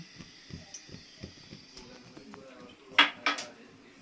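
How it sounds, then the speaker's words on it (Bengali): A wok set down on a lit gas stove in a home Bengali kitchen, soft knocking sounds followed by two sharp metallic clanks of pan clatter close by near the end. "এবার আমি গ্যাসটাকে জেলে কড়াইটা বসিয়ে দিলাম"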